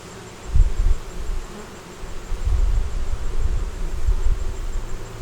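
Honey bees drone around stacked deep 8-frame hive boxes, a low, close buzz that swells and dips as individual bees fly near and away.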